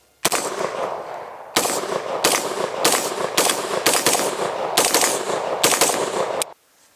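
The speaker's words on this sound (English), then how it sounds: "So literally, I have a clear gun now. I can go back to shooting." A Springfield Armory LEVAR rifle fires rapid strings of loud gunshots outdoors, bursts of closely spaced cracks running almost continuously for several seconds before stopping abruptly.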